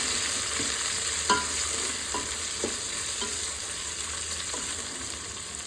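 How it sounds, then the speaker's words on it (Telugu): Chicken fries in a pan as coriander is mixed in, a constant hiss of oil under a few light, evenly spaced scrapes and taps of the spatula, close by and without speech. "ఇదంతా మంచిగా కలుపుకుందాం"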